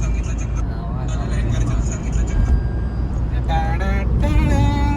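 A car driving at speed on the Atal Setu sea bridge, with a steady low road and engine rumble throughout and voices talking over it inside the car.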